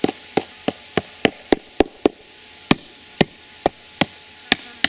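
A hard tool taps on bedrock about a dozen times in a steady rhythm, each sharp knock close and loud with a hollow ring.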